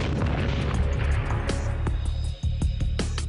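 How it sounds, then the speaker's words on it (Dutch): A large explosion near a Brink's building during a robbery: a loud, rumbling blast fills the clip, with deep booming and scattered crackling pops and bangs following. "dan volgt een enorme explosie"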